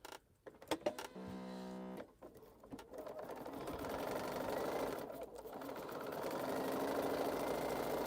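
A sewing machine runs in a short steady burst while stitching a seam across quilt string blocks, quiet and close. Handling noises come before it, and a broad hiss rises afterward.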